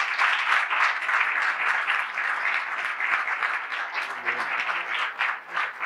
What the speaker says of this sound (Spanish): Pido un fuerte aplauso para los tres.